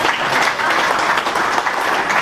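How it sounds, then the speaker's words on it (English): Steady applause from a crowd at a sports club's 50th anniversary speeches, dense continuous clapping at full volume with no pauses. "Big round of applause for Rick Morgan."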